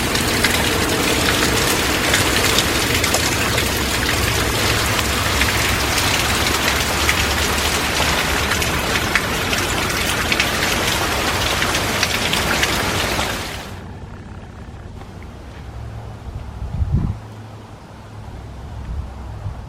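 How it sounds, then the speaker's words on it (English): Rain falls steadily onto garden surfaces in a loud, even hiss that stops abruptly partway through, leaving a quieter background with a brief low thump near the end. "And we're getting our rain."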